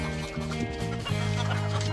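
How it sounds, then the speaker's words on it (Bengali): Layer hens clucking inside a farm shed, around fifteen or sixteen birds: overlapping, drawn-out clucks and calls from several hens at close range, continuous throughout with no talking. "এখানে লেয়ার মুরগি আছে প্রায় পনেরো ষোলোটার মতো"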